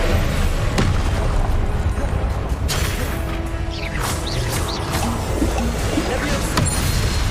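In Hogwarts Legacy, the Confringo spell sets off loud booming explosions and bursts in a busy battle mix, with crashes and whooshes following one another, while other spell effects sound around them.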